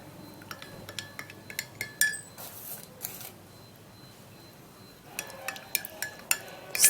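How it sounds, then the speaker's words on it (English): A spoon stirs a honey bedtime drink in a glass, giving a run of bright clinks against the sides in two bursts separated by a quieter pause. "stir it all up."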